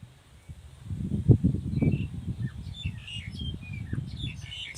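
Birds in the rural Isan countryside of Thailand chirp and call in the distance, scattered short tweets over a low rumbling background with some faint murmuring.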